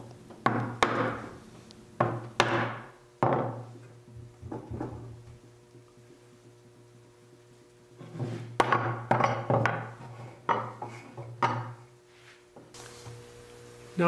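Holdfasts being struck into the holes of a wooden woodturner's workbench with sharp, close, hollow knocks in uneven clusters, separated by a quiet pause before a second run of blows.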